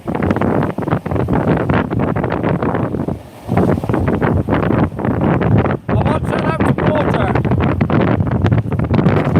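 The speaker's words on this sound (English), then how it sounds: "It's really windy out here." Heavy wind buffeting a microphone outdoors while fishing in bad weather, a constant loud rumble and roar with brief lulls, while a person talks over it.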